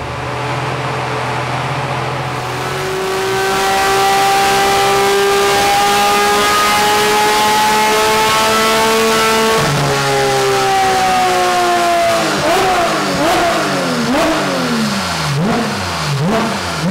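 A Porsche 992 GT3 engine fitted with a race exhaust revs loudly and alone, holding a steady drone before climbing in long sweeps, dipping back, then blipping up and down in quick repeated revs.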